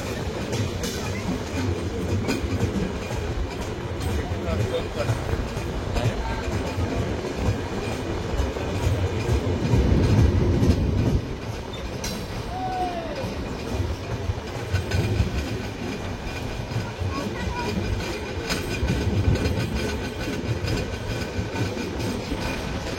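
The Ruposhi Bangla Express runs between Dhaka and Benapole, giving a continuous loud rumble of rolling rail cars with faint rhythmic clatter and a brief wheel squeal partway through.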